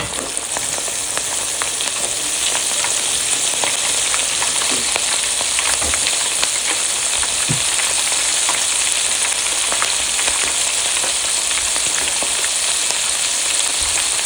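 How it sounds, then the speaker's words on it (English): A blooming onion fries in oil in a small home fryer, giving a loud, continuous sizzle and crackle with scattered pops throughout and no talking. "this is a small fryer, so I'm going to have to fry it one way and then turn it and fry it another"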